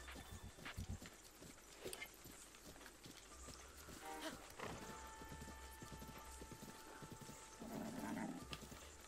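A horse galloping in Breath of the Wild: steady clip-clop hoofbeats run through throughout, with a snort or whinny near the end and no talk.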